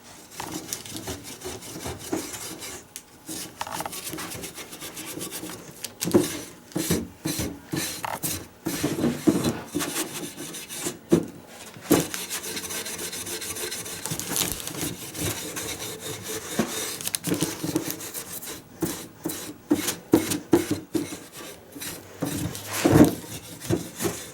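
Steel wool burnishes a metal coating. It makes an uneven scratchy rubbing of close, short strokes that vary in loudness, with brief gaps between the strokes.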